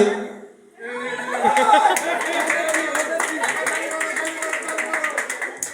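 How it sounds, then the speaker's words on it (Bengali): Audience clapping breaks out after a brief lull, rising quickly into steady applause mixed with chatter and laughter, continuing at an even level to the end. "হাততালি হবে"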